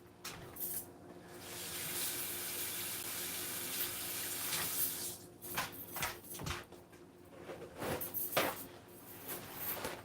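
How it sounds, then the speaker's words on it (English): Kitchen tap running steadily while hands are washed during catfish frying prep, a continuous close hiss of water with uneven splashes and rubbing as hands move under the stream, no talk. "Let me wash my hands."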